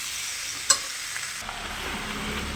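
Vegetables with Malabar spinach being stir-fried in a pan for a hilsa fish-head chorchori, a faint steady sizzle with one sharp utensil clink and a few quieter scrapes.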